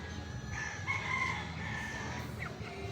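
A rooster crows amid a steady outdoor background, its call rising and falling over a couple of seconds.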